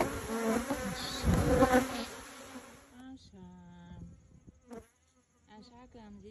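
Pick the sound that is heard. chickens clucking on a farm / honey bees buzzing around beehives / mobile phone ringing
honey bees buzzing around beehives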